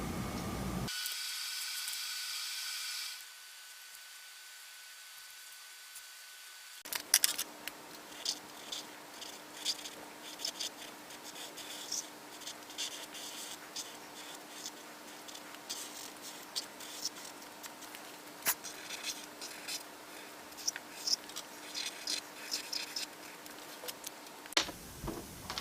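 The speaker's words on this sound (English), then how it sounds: "I'm going to go ahead of you a bit and outline the character in with the black marker" A black marker traces an outline on paper, heard as faint, close squeaks and light scratchy strokes in an irregular pattern over a quiet room hum, after a brief louder noisy stretch at the start.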